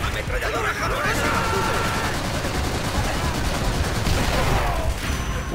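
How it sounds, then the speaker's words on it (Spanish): Japanese machine gun from Call of Duty: World at War, a dense sustained burst of automatic fire mixed with other battlefield gunfire throughout, with shouted voices in the mix. "¡Ametralladora japonesa!"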